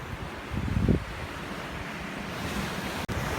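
Sea waves wash steadily onto the seashore in a broad, continuous surf roar with a fuller surge early on and wind rushing over the microphone.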